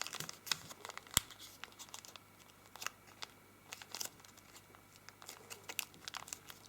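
Origami paper is folded and creased by hand, giving faint, close, irregular crinkles and sharp crackling snaps in quick bursts.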